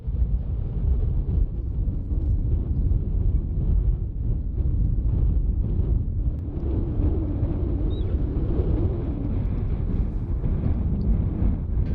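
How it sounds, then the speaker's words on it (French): Strong, steady wind gusting across an open landscape in Jordan ahead of a change in weather, a continuous low roar buffeting the microphone with no voices. "on entend le vent qui est en train d'arriver"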